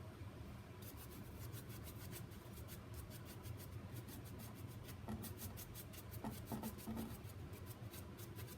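A wax-loaded brush scrubs and rubs steadily over a milk paint finish on plastic, a faint close scratchy swishing with regular strokes and a few small taps.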